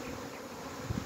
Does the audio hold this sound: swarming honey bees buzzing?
yes